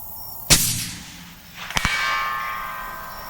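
A long-range rifle shot at a coyote about 1,000 yards away, fired with a thermal scope: a sharp crack, then roughly a second later a fainter distant thump, followed by a lingering ringing tone.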